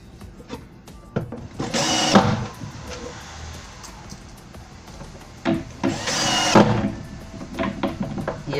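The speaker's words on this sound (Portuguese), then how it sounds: "Segura ela até conseguir estar parafusando." A power drill drives screws while a gas piston is fitted to a cabinet door, with two loud, rough bursts of whirring about three seconds apart over a quieter background of handling noise.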